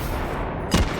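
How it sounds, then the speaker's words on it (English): A PIAT anti-tank projectile strikes its target in H3VR, a single short, sharp impact burst standing out briefly over steady background noise. "Direct hit with a Piat."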